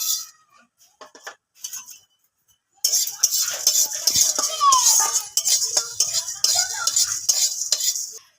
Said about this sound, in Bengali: মশলাগুলো শুকনো খোলায় ভেজে নেবো।